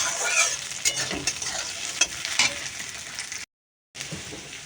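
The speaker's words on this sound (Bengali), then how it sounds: "মটরশুঁটি আর পেঁয়াজটা দেখো পুরো ভাজা ভাজা হয়ে গেছে" Peas and onion fry in a pan on an outdoor stove, giving a close, even sizzle broken by scraping stir strokes. The sound drops out briefly, then the frying resumes.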